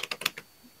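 Playing cards from a Clue board game are shuffled by hand, giving about five quick, crisp papery snaps close by. The sound is quiet and fades into near silence.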